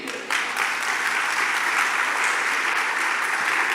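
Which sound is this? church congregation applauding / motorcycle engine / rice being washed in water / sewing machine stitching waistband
church congregation applauding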